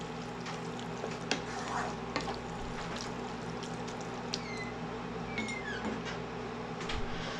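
Spaghetti is tossed with chicken parmesan sauce in a hot pan, with a continuous low sizzle and scattered light clicks and scrapes from stirring.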